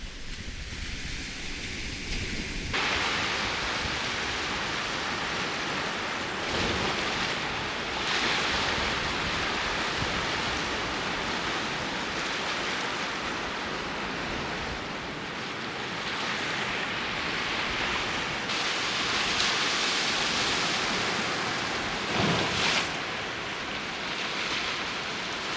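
Rough sea after a storm, waves crashing and surging against a rocky headland in a steady, loud roar of surf with a few heavier swells, no voices.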